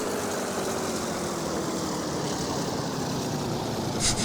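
A Roblox video game train engine drones continuously at a constant pitch, loud and unbroken, with a slight surge at the very end.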